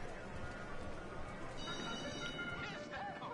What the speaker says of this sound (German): Hier höre ich Pferderennen auf jeden Fall.